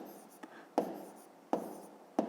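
A pen writing on paper while working a fifth-grade subtraction exercise, heard as soft close scratching strokes broken by three or four sharper taps, with no speech over it.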